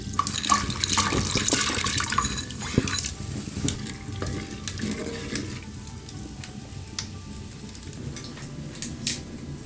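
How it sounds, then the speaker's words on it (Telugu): Water poured from a cup onto one cup of chana dal in a pot splashes loudly at first, then settles into quieter trickling and light clatter of the vessel. "అదే కప్పుతో 3 కప్పుల నీళ్లు పోసుకుంటున్నా."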